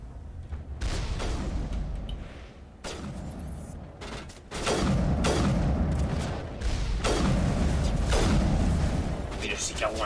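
Gunfire from the video game Mass Effect: repeated heavy blasts and booming shots in bursts, loud and close, spaced across the clip with a player speaking over the action.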